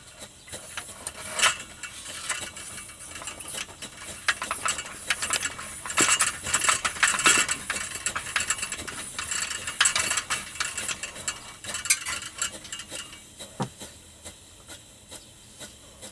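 A Russian stove is hand-pumped, giving a run of dry metallic clicks and ratcheting rattles with light hissing, irregular and close, building in the middle before thinning out near the end.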